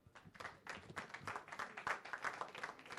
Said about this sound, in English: A big applause to this.